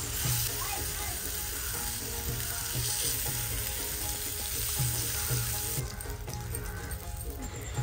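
Brinjals frying in oil on a flat griddle, a loud continuous sizzle with repeated scraping and turning sounds from a spatula, close by and without speech.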